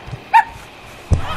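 A small cartoon dog in an animation gives two short, high yips about three quarters of a second apart, sharp and close against a quiet background.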